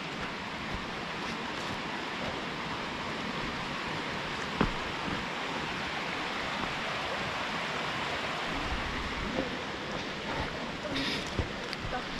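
A two-tiered waterfall in the Jura mountains near Saint-Claude gives off a steady, broadband rushing roar that holds constant and fairly loud, with no voices over it.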